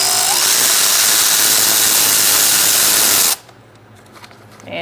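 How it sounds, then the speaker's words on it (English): A power tool driving a 10mm socket to remove bolts on a 2014-2018 Subaru Forester during radiator replacement, running loud and steady for about three seconds before stopping abruptly into quiet. "Now you're going to use a 10mm socket."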